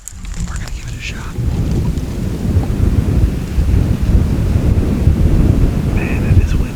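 Strong wind buffeting an outdoor microphone during a public land hunt, a constant loud low roar and rumble filling the whole stretch with faint higher sounds above.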